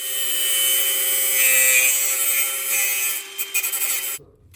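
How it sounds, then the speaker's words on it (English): Angle grinder grinding the lip off a Tesla Model S brake rotor, a loud steady whine with harmonic tones that runs continuously, then stutters briefly before cutting out near the end. "I'm going to get my angle grinder"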